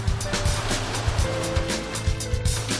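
Rough sea waves surge loudly around a small plastic rowing boat heading out from the Vietnamese coast, a continuous roar with repeated heavy thumps.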